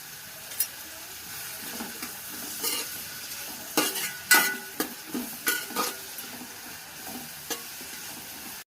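A spoon stirs chicken curry ingredients in a pan as they fry. Quiet sizzling runs underneath, and intermittent scraping clinks come from the spoon against the metal. The sound is close and fairly soft.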